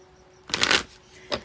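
A deck of playing cards is shuffled in a quick riffle burst, followed a moment later by a single short snap of cards, close and fairly quiet.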